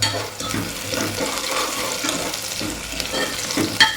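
Chopped garlic frying in oil with browned onions, a soft crackling sizzle mixed with the scrape and clink of stirring, fairly faint and close, with a brief clink near the end.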